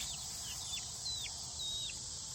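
Young golden comet chicks cheep in short, thin rising calls, with a few soft separate chirps over steady background hiss, fairly faint and without voices.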